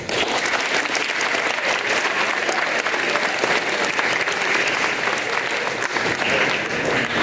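Sustained, dense applause from a school audience at a youth philanthropy finals event, honoring the finalist teams; steady and loud throughout, with no break in the clapping.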